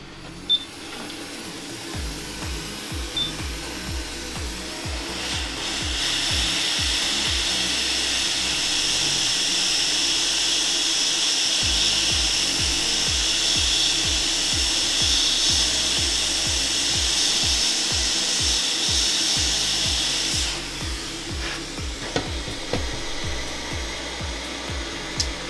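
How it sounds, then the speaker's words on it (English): A heat gun blows steadily for a long stretch while desoldering the charger port from a Plantronics Voyager 5200 headset board, a loud close airy roar with faint low clicks and taps beneath it. "use our heat gun to desolder the port"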